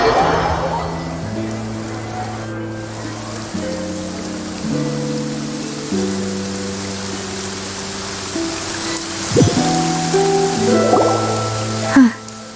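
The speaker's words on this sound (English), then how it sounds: "It's been raining non-stop for a few days now." Steady rain falls in a video game scene on the road to Poisson, a soft broadband hiss lying under sustained musical chords, with a couple of brief louder accents near the end.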